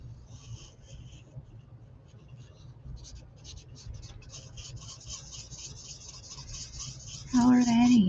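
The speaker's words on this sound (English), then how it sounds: "I'm going to use the nib end to fill in that so I'm not accidentally coloring outside the line" A marker's nib end colouring in on paper card, giving soft, steady scratchy strokes that continue throughout, with a voice briefly speaking near the end.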